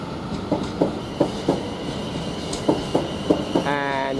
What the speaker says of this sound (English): this one from Portsmouth to London Waterloo is now departing with the late running of the 12:14 and leaving at 12:16